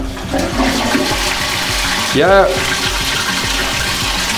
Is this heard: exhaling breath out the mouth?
no